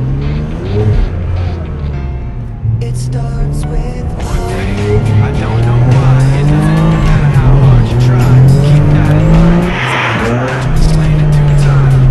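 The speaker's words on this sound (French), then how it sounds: "voici pour vous un tour de circuit du Yasmine Hammamet en Maranello" A Ferrari Maranello laps the Yasmine Hammamet circuit, its engine revving up and down through gear changes with tire noise, loud and close throughout, with speech partly over it.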